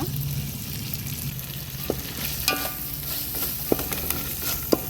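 Mutton curry masala with handfuls of mint and coriander fries in a pan, a steady close sizzle broken by sharp scrapes and clicks of a stirring spoon, with no talking.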